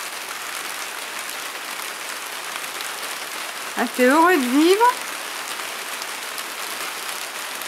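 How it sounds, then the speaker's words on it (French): Steady rain patters on a surface throughout, with a person's voice briefly speaking over the downpour midway. "Tu t'en fiches royalement de la pluie, hein."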